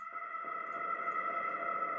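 A nasty, resonant techno synth tone drenched in a 100% wet, huge reverb, with some delay movement, sustains steadily and loudly for the full two seconds with no talking.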